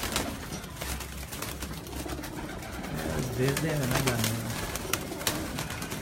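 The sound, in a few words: pigeons cooing on rooftop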